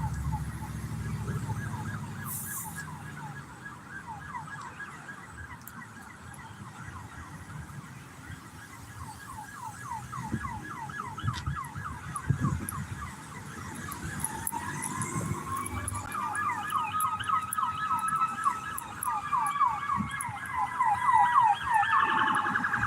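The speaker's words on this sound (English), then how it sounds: "Now I hear some sirens are coming." Emergency vehicle sirens wail in a city street, a rapid yelp pattern giving way to a rising and falling wail as they draw steadily closer and louder over traffic noise.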